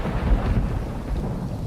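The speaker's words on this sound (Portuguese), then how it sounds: "a minha maior memória de áudio de Manaus era esse som da tempestade na" Thunderstorm with rain heard from a veranda in Manaus: a continuous deep rumble of thunder over steady rain, loud and close, with no voices.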